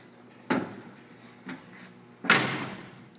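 Passenger door of a 1964 Ford F100 pickup cab swinging shut after cab mount repair, a few solid thuds with one final firm slam, close and clear with no talk.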